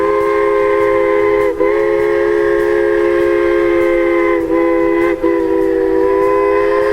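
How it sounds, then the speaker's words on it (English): A steam logging train on a West Virginia scenic railroad sounds a loud, sustained multi-tone whistle chord for about seven seconds, with brief dips in the blast and no talking. "This was the only time the whole trip that we saw that logging train"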